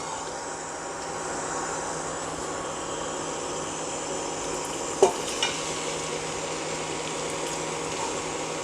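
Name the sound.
sweet pumpkin frying in ghee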